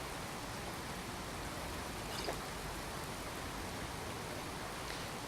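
Pouring rain in the video game Skyrim hisses as a dense, steady wash with faint drop patter, constant and unbroken throughout, with no voices.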